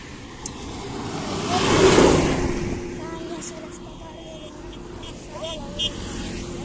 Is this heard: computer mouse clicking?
no